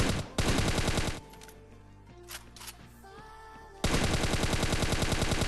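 Rapid automatic gunfire rattles in two long sustained bursts in the Scarfall 2.0 video game, loud and close, with a quieter stretch of clicks and game effects between them.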